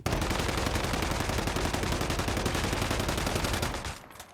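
Rapid automatic gunfire in a video game shooter, with every bullet triggering power surge hits, a dense continuous loud barrage of shots lasting several seconds before trailing off.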